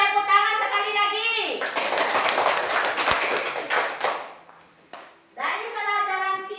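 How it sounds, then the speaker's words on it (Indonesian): Children in a classroom clap for a group, a burst of mixed hand claps and taps lasting a few seconds, framed by a voice speaking before and after. "tepuk tangan untuk kelompok C"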